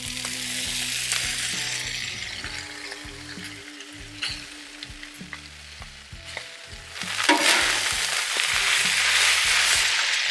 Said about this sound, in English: Now we're going to get our noodles in there and our sauce.